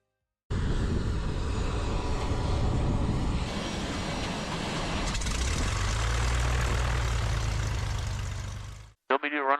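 A small plane's engine runs steadily up close, a loud droning rumble that shifts to a deeper, smoother tone midway before cutting off abruptly, with no talk over it.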